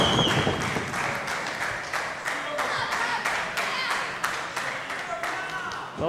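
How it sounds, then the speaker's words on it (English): A capacity crowd at a live Northern Impact Wrestling ladder match cheers and claps steadily throughout, a dense wash of applause with scattered sharp claps, and an announcer talks over the noise. "And this capacity crowd is going insane."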